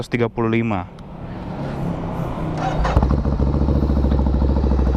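A Ducati Scrambler 803cc inline twin-cylinder engine idling with a steady low throb, preceded by a brief voice and a rising rev that settles into a rumble.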